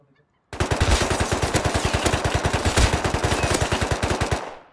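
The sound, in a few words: gunfire in a firefight, from a video game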